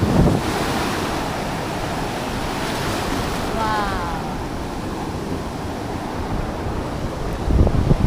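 Sea waves wash onto a beach in Phuket, a steady, loud roar of surf mixed with wind buffeting the microphone, swelling slightly near the end.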